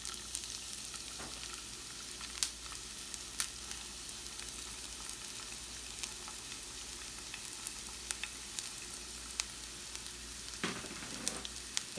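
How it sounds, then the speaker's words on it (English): Onions sauté in olive oil in a hot pan, giving a steady close sizzle with occasional louder crackles and stirring scrapes, and no one speaking. "we want to saute these vegetables before we put them into our meatloaf"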